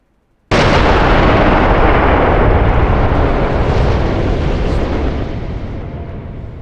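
Tanks blowing up in the DCS flight simulator, one sudden massive explosion bursting out of silence, then a long loud roaring rumble that slowly fades over several seconds.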